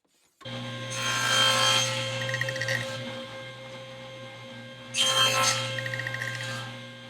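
A saw cuts through a wooden handle blank for a router plane in two sustained passes of rasping strokes, close up with a steady hum beneath.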